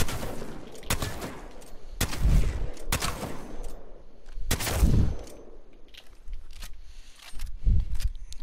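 Gunfire from targets being shot in the video game Apex, heard as sharp, separate shots and short bursts with irregular pauses between them.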